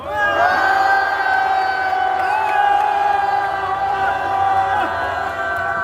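A large crowd at an outdoor political rally near Gwanghwamun in Seoul roars and chants together in sustained, loud, tonal shouts and cheers that swell and hold for several seconds, with raised voices blending into one mass.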